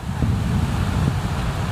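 Steady low rumbling wind buffeting the microphone outdoors in Yekateringof park, Saint Petersburg, in autumn, constant and fairly loud throughout with no talking.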